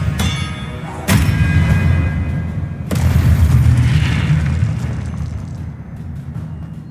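Expelliarmus spell cast in the Hogwarts Legacy video game, two loud booming blasts with deep rumbling tails that fade over several seconds.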